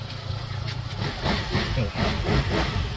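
A Vespa GTS 150 4V 2021 scooter engine idles nearby, a steady low putter with slight fluctuations over a few seconds.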